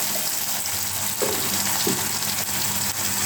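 Onions with ginger-garlic paste fry in oil for a bitter gourd, potato and catfish curry, a steady close sizzle with occasional soft stirring scrapes and no talk.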